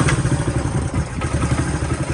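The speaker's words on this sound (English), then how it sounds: "Accidentally hit the throttle, but as you hear, it starts right up and runs." A Honda CT90 motorcycle engine runs close by, a mid-pitched single-cylinder putter with quick irregular pulses and a mechanical clatter. No talking is heard.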